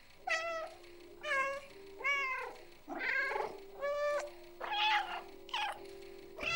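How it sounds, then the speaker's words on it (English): A cat character in the video game Stray meows repeatedly, seven distinct meows spaced about a second apart, each clear and close over a faint steady background hum. "Well, let's get some meows in."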